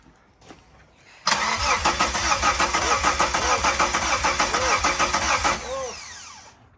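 The engine of a Mitsubishi Eclipse project car cranks repeatedly without catching: a loud, rhythmic whirring chug from a nearby starter lasting about four seconds, then trailing off into a fading rumble.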